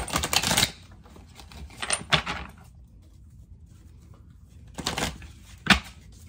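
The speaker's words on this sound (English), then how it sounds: "Hold on, y'all, let me shuffle these up." Tarot cards are shuffled by hand in a few short, crisp riffling bursts separated by quiet pauses, close to the microphone and with no talking.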